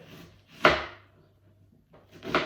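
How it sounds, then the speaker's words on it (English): A kitchen knife chops firmly down through an onion on a board, cutting it into quarters: two distinct wooden thuds about two seconds apart, close and fairly clear, with no voice over them. "We're going to chop down, okay, cutting the onion into quarters, like so"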